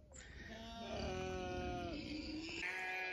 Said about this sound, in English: So I have a choir, sheep and pig choir this morning.